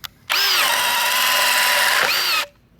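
A brushless hammer drill, Milwaukee or Ridgid, spins up sharply and runs loud and steady for about two seconds with a whining motor pitch that dips once under load, then winds down.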